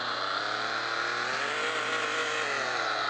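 A lowered car's engine revs and holds high, a sustained loud buzzing drone with a slight rise and fall and no break.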